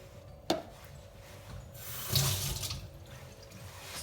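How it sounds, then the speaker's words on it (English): Water is poured into a bowl while making semolina fufu, a brief splashing pour alongside faint rubbing and handling noises, close and fairly quiet. "So I'll just put water in it and then make sure it's not dry, the bowl itself, so it doesn't stick to the bowl."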